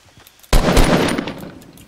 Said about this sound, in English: Are you shooting at them?